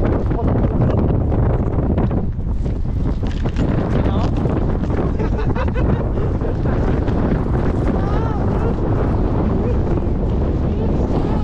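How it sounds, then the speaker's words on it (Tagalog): Strong, cold wind roars and buffets the microphone continuously outdoors, a loud unbroken rush with voices faintly underneath. "Kasi malakas po yung hangin."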